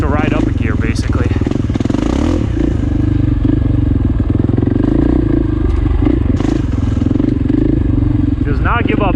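KTM dirt bike engine riding single track, a loud continuous near drone with shifting pitch, clattering chassis rattle and brief revs, with someone talking over it throughout.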